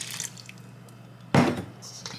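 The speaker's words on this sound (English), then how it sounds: "I'm gonna take this water that I have, and I made a well right here in the center. I'm gonna pour" Water poured into a well in flour for soft homemade tortilla dough, a short, fairly loud splash and trickle of about a quarter second, with faint clinks and drips from the bowl around it.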